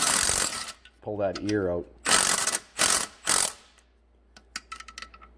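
A ratchet clicks in short bursts while tightening a bolt on a 2005 VW 2.0 TDI engine during timing belt work, close and crisp, with someone talking briefly in between.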